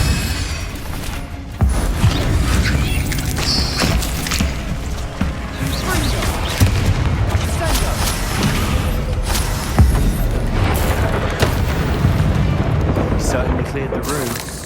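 Blasting-spell explosions from Confringo in the Hogwarts Legacy video game, repeated booming bursts over dense combat noise, with a voice shouting spell names throughout.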